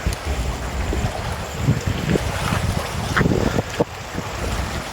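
Sea waves at Koh Si Chang, Thailand, wash and churn in a continuous rushing noise, with wind rumbling against the microphone and occasional splashes, no voices.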